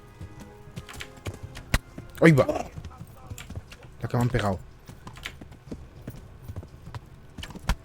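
Horse hooves clip-clopping steadily in a rhythm of sharp clacks, with someone talking over them in two short bursts.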